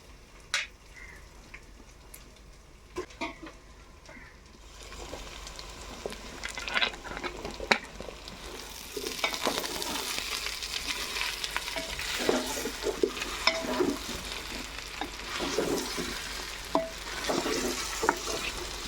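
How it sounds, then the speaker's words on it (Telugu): Cleaned mushrooms hit hot cooked masala for pulao, starting quietly with a few spoon taps before a sizzle of frying builds and carries on under repeated scraping stirs. "ముందుగా క్లీన్ చేసి పెట్టుకున్న మష్రూమ్స్ని అయితే మసాలా వేసేస్తున్నా"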